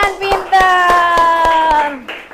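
Elementary school children in a classroom clap in a quick, regular rhythm for a classmate while chanting together, their sung voices running over the steady claps until they stop.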